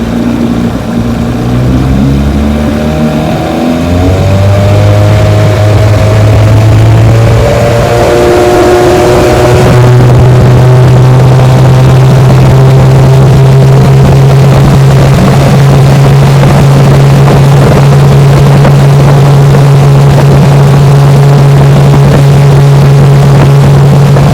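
A small vintage outboard motor on a 14-foot john boat runs loud and close, its pitch rising as it revs up, then holding a steady droning hum.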